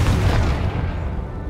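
A Confringo fire spell blasts in Hogwarts Legacy, a loud deep boom with rumbling crackle that fades out over about a second and a half.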